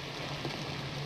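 Heavy rain falls outside a book shop, a steady dense hiss running evenly and alone through the moment with a low hum beneath it.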